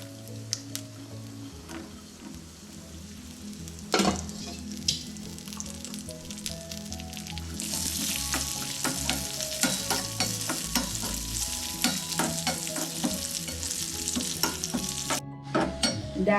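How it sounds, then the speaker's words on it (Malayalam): Cashews and raisins frying in ghee for a Kerala sadya payasam, a steady close sizzle with stirring scrapes that swells louder about halfway through and continues without speech. "ഇതിലേക്ക് കുറച്ച് നെയ്യ് ഒഴിച്ചു കൊടുക്കാം. ഇനി ഇതിലേക്ക് അണ്ടിപ്പരിപ്പ് മുന്തിരി ഇട്ട് കൊടുക്കാം."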